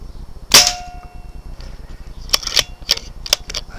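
Rifle shots fired at targets: one sharp, loud crack, then after a pause a quick series of four or five snappy shots with short gaps, each a brief dry report.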